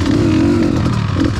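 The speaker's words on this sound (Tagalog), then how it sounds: "Subukan din natin itong 2-stroke na to, 300cc, made in Italy, Beta R." A Beta R300 two-stroke 300cc dirt bike engine revs loudly and steadily up close on a trail ride, a raspy buzzing drone with slight pitch shifts and no talking.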